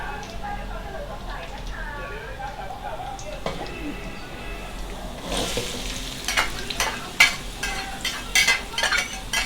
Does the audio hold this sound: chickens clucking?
no